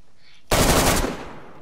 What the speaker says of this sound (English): I let off four fucking bullets and my gun jammed.